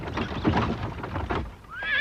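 Horses being pulled to a halt neigh and whinny loudly with a rough, breathy texture and a clatter of movement, ending in a high drawn-out whinny that rises clearly above the rest.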